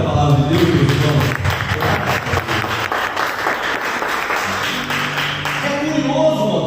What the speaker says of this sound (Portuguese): vamos aplaudir a palavra de Deus, meus irmãos